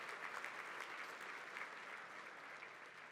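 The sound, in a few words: audience applause at awards luncheon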